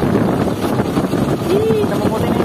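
Gusty wind buffets an open boat at sea as the water turns rough, a steady broadband roar of wind noise on the microphone with engine and water rumble beneath and no clear speech.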